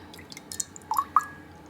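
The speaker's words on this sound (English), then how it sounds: "Just some little splashes of water around the edge." Fingers flicking small splashes of water around the edge of bread dough: a few soft, close drips and wet spatters scattered over under two seconds, with no talking.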